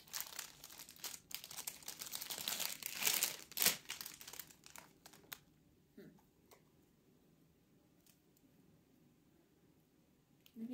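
Plastic packaging of a DNA ball fidget toy crinkles and crackles during unboxing, dense and close for about five seconds, then drops to a few scattered soft rustles and clicks.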